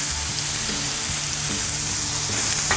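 Smash burger patty sizzling steadily on a Blackstone griddle, its green chili cheese skirt crisping; a dense, continuous frying hiss with faint scraping under it, close and even throughout.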